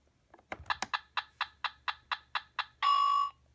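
Littlest Pet Shop toy toaster gives a few soft clicks, then about ten evenly spaced electronic chirping beeps, ending in a sustained bright electronic ding, close and alone.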